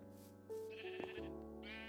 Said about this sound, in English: We have a little sheep farm going.